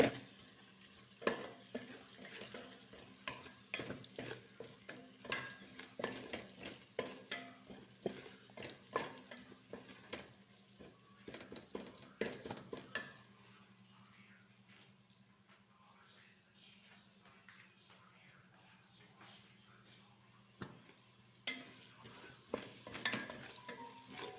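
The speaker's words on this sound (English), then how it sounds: "I already started cooking the onion together with the garlic." Onion and garlic frying in a pan for a beef and vegetable dish, a steady soft sizzle broken by frequent scraping stirs, with a quieter stretch midway and no talk.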